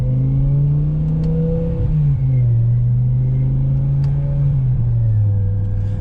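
BMW E60 M5 with the S85 V10 engine on a test drive, a loud continuous drone held at steady revs with two brief dips as the transmission shifts, close and dominant.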